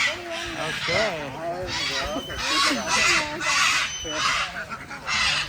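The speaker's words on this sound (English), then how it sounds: "There's one angry parrot right there." An angry parrot at a bird park in Bali gives a series of harsh, squawking, rasping calls, close and loud, repeating in quick bursts over crowd chatter.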